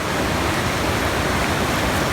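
Bidadari waterfall in Aceh roars as a dense, constant rush of falling water, loud and close, with no other sounds standing out.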